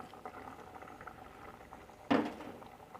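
Winter melon and boiled egg soup bubbling in a pot, a soft steady patter of simmering with one louder gurgling burst near the end.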